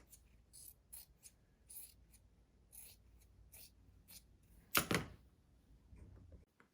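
Scissors cut excess fabric with a run of quick, faint snips close by, followed by a louder rustling crunch as the cut fabric is handled.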